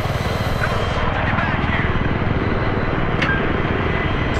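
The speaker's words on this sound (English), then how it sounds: "Alright, attack chopper's up." An attack helicopter in the video game Battlefield 3 thumps loudly and close with steady rapid rotor pulses, while voices talk over it.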